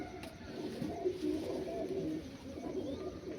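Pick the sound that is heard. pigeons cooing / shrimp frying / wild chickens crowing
pigeons cooing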